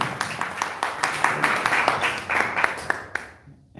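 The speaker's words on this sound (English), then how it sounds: "Please give applause for them." Audience at a Thursday night muhadharah gathering clapping in sustained applause, dense overlapping claps at moderate distance that stop abruptly near the end.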